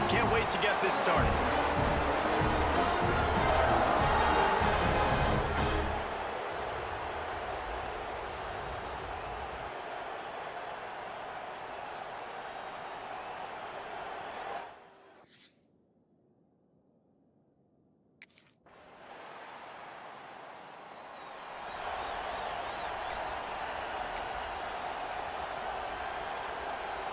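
Stadium crowd roar in College Football 26, a loud broad wash that drops away and later returns, heard under steady commentary voices.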